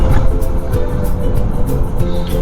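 A car driving across a road bridge, a loud steady engine and tyre rumble heard from inside at close range.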